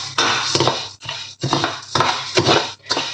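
Coriander seeds tossed and stirred in a dry pan for Sri Lankan coffee powder make rhythmic bursts of gritty scraping and rattling. Short pauses separate each loud, close stroke, and no one speaks.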